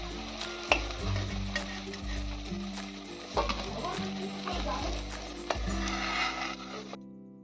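Beetroot dhoka cakes fry in hot oil with a steady, close sizzle, broken by several louder clatters as the pieces are turned or moved in the pan.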